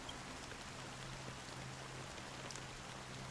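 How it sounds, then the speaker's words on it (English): Fine black drizzle falls steadily over the sea in Honkai: Star Rail, a soft, even hiss of rain with scattered droplet ticks and a faint low hum beneath, continuous throughout with no voices. "Amidst the fine drizzle of black rain, countless shadowy hands emerged from the sea"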